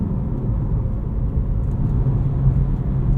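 A 2026 BMW M2 CS with an 8-speed automatic cruises along, its engine and road noise forming a steady low cabin rumble that holds loud and even throughout, with no talk.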